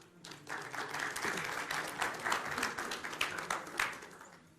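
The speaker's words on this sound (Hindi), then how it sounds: "चलिए आइए तालियों के साथ स्वागत कीजिए अगले दो पार्टिसिपेंट्स का, रोहित कुमार सिंह और मनोज काका" A studio audience at a televised Hindi debate show bursts into sustained applause, dense and even clapping that swells slightly and holds steady for several seconds without any voice over it.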